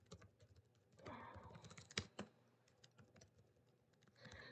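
Close typing on a computer keyboard while entering Java code, uneven bursts of clicking keystrokes with a couple of sharper louder key hits, no speech.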